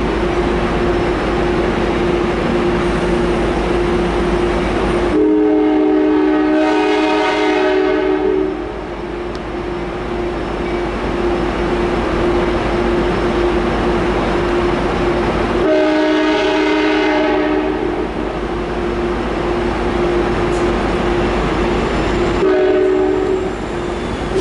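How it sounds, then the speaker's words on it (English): Amtrak locomotive 90208 sounds its K5LA horn at Oceanside in two long, loud, steady blasts over the low rumble of rail traffic, with no talking. "all I was able to capture was audio of 90208's excellent sounding K5LA horn."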